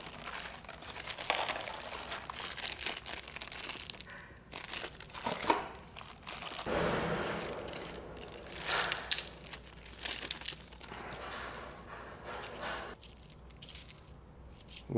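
Crinkling and rustling of wrapping with small metallic rattles of old coins shifting inside, irregular bursts up close with no voices.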